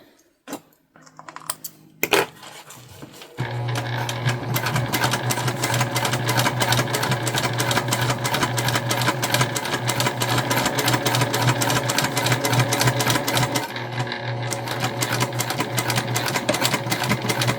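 A sewing machine back stitches a bum bag in a long, loud, continuous run of rapid needle clatter after a few brief handling clicks, close up and without talk.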